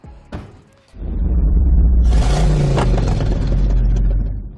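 A brand-new Suzuki Ciaz sedan pulls onto the road, its engine rising into a loud, steady rumble with road and tyre noise that holds close and constant after a brief quieter start.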